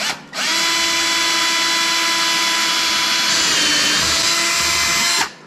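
Power drill boring a hole with a bit, a steady high-pitched whine that starts abruptly, holds for about five seconds with a slight pitch shift partway through, then stops, loud and close with no talking.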